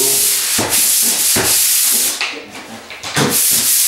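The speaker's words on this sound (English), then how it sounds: "All I'm doing is running the paper over the areas that I'm going to be skimming" Sandpaper is run lightly over a wall angle before skimming, making close, loud rhythmic rubbing strokes, about five passes with brief gaps.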